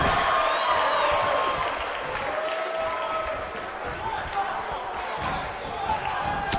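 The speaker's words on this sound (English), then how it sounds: "When you listen to this crowd, they're absolutely electric." Steady, loud crowd roar from a WWE 2K19 wrestling video game pay-per-view event in Los Angeles, swelling and dipping slightly as one continuous wash of cheering and applause throughout.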